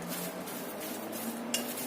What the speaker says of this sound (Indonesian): Kita aduk lagi sampai semuanya tercampur rata.